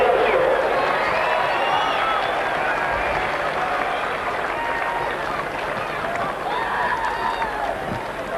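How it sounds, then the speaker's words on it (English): Sustained crowd applause at the 1991 VFA Grand Final, Werribee versus Dandenong, greeting Dandenong's captain coach Tony Elshaugh; steady, dense clapping fills the whole stretch with some cheering mixed in. "Well, Sam, a big round of applause, the captain coach of Dandenong, Tony Elshaugh."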